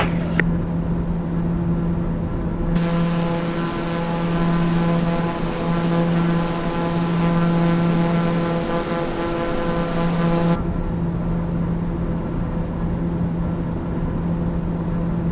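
An aircraft engine drones steadily as the plane climbs in a flight simulator game, a constant buzzing propeller-like hum with layered harmonic tones and a brighter whine that cuts in for several seconds before dropping away.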